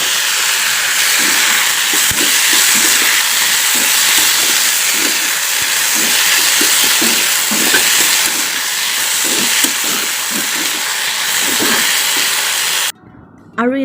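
Raw banana and bitter gourd hit hot oil in a pan, giving a loud, continuous hissing sizzle with soft bubbling pops, close by, cutting off abruptly near the end.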